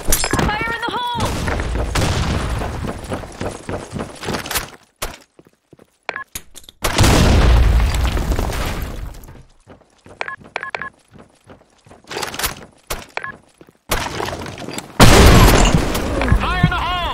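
Grenade explosions and gunfire in a video game, arriving as several loud, booming bursts with sharp crackling shots, separated by short quiet gaps, with some voices in between.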